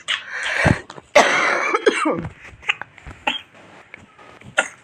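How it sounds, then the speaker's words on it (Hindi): Several harsh coughs burst out close by, the loudest cluster early on, followed by smaller throat sounds and scattered quieter coughs. "खांसी आती"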